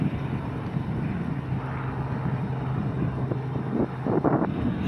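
A helicopter flies around over the Gila River backcountry, a faint low rotor drone mixed with wind buffeting on the microphone, steady throughout with no talking.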